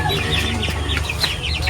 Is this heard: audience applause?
no